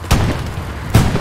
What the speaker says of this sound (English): Accurate arty on that garrison.